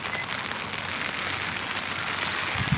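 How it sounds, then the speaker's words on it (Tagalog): Heavy rain pouring steadily over the Pasig River, a dense, continuous hiss of drops on water and nearby surfaces, loud and unbroken with no voices. "Tapos tuloy-tuloy pa yung ulan."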